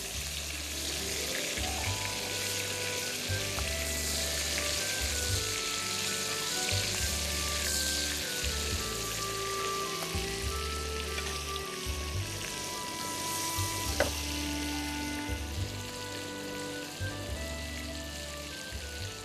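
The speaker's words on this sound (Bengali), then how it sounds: "এটাকে প্রথম থেকে আপনি নাড়িয়ে নাড়িয়ে রান্না করবেন এবং আলতো করে এটাকে উল্টিয়ে দিবেন" Chicken shashlik sizzling steadily as it is stir-fried in a pan, a continuous close frying hiss with soft scraping stirs and a rhythmic low thumping underneath.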